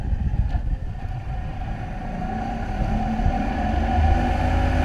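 The outboard engine of a 2000 Jaws Lorequin 24 center console boat on a sea trial, a steady low motor drone that builds gradually in loudness as it is run up, heard close without speech.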